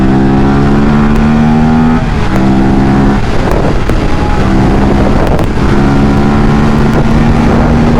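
An Aprilia RS457 motorcycle pulls hard on a flyover, its engine climbing in pitch through repeated rising revs across gear changes, loud and close with heavy wind rush over everything.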